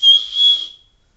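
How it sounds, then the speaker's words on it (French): A loud, shrill whistle blown in two quick bursts, the second held slightly longer before cutting off, with no talking. "Un sifflet."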